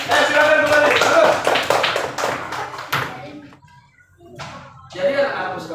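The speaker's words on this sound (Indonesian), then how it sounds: "Beri tepuk tangan untuk kelompok 5" A classroom audience applauds a student group after their presentation, a dense burst of clapping that fades out, then children's voices and talk resume.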